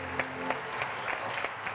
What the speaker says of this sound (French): Puis je vais vous demander d'applaudir très fort